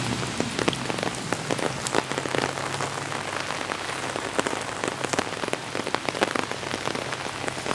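Heavy rain in Paris pours steadily, drops pattering densely and close on a hard surface without letup.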